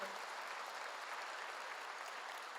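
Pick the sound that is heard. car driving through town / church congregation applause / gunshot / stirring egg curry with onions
church congregation applause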